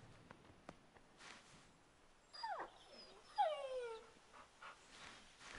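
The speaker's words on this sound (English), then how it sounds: "I can pet the dog." Dog in the Assassin's Creed 3 video game, petted by the player, letting out two rising and falling whimpering whines over a quiet outdoor ambience with faint scattered ticks.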